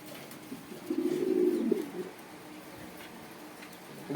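Pigeons of racer, satin and Sirazi breeds coo once in a soft, rolling burst, fairly close but quiet, amid faint background noise.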